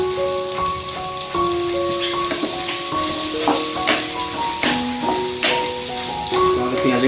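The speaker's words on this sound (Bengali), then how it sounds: "পেঁয়াজ কুচিটা আমাদের ভালো মতো যতক্ষণ না গোল্ডেন ব্রাউন কালার হয় ততক্ষণ ভেজে নিতে হবে" Chopped onions frying in a pan until golden brown for paneer butter masala, a steady close sizzle with light stirring clatter, while prominent sustained musical tones play over it.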